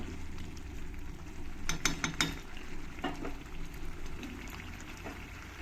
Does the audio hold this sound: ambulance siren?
no